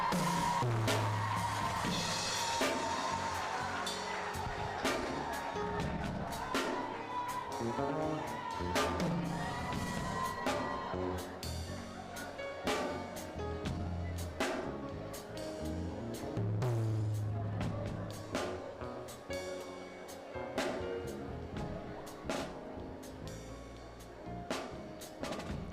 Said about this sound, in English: Keep the applause going, keep the applause going.